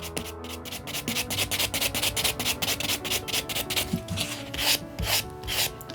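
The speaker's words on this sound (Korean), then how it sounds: "자, 전체 샌딩." Hand file rasping back and forth over an artificial nail tip during a nail-art exam exercise, a steady fast rhythmic scratching close up with no talking.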